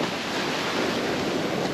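Rough sea surf crashes against a rocky shore in Boca, Jamaica, making a continuous loud roar of broadband wash, with no voices.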